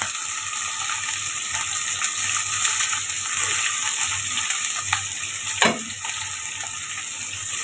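Green beans frying in a pan with onion, garlic, curry leaves and chilli, a steady close sizzle with faint stirring scrapes and one sharper clack near the end, no voices.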